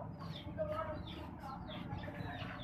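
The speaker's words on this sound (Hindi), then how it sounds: "ये मुर्गा है, क्या नाम है इस मुर्गे का?" A rooster at a shop selling chickens and parrots gives soft repeated clucks over a low background hum, fairly faint and close.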